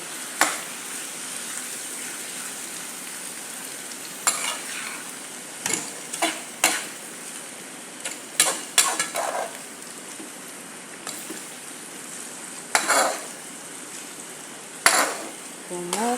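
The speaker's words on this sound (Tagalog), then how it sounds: "Halo na natin ang ating itlog. Saka natin hahaloin ulit." Bitter gourd (ampalaya) frying in a pan with egg, a steady sizzle under repeated clinks and scrapes of a utensil stirring against the pan, close and intermittent.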